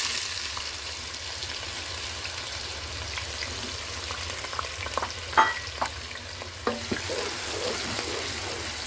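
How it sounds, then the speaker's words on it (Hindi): Onions sizzling in hot ghee, a steady frying hiss throughout with a few sharper crackles and spatters near the middle, close and fairly quiet, no talking. "घी हमारा गर्म हो चुका है। अब इसमें प्याज डालेंगे।"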